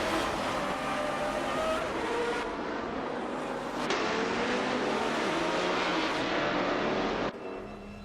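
GT race cars roar around Interlagos in a racing video game with AI drivers: a dense, steady wash of engine noise that swells as cars pass, holding loud and continuous before dropping off near the end.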